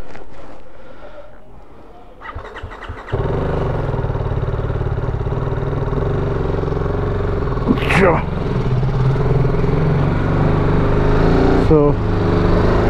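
A motorcycle engine starts up about a quarter of the way in, then runs at a steady, close idle on a road trip in Bankura, with a few brief higher-pitched sounds over the top and voices talking now and then.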